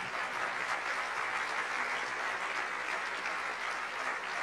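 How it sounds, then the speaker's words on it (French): An audience at a French debate panel applauds steadily, thanking the speakers. The clapping is continuous and even throughout, moderately distant and fairly soft, with no voices over it. "Ces applaudissements pour remercier nos intervenantes de ces trois débats"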